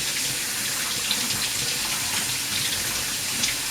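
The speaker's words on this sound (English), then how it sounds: "wash our hands of all this glue." A kitchen tap runs in a steady, full gush as hands are rinsed of glue while cooking chicken tenders, continuous and close with faint splatter and no talking.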